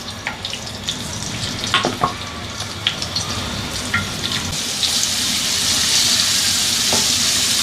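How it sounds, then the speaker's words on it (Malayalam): Prawns frying in oil in a pan give a steady, close sizzle that swells louder and denser toward the end, broken by a few sharp clinks and scrapes early on; no one speaks. "ഇനി നമുക്ക് കൊഞ്ച് ഫ്രൈ ചെയ്തെടുക്കാം"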